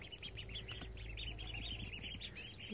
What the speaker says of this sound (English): So you can hear the ducklings going at the dirt and the greens.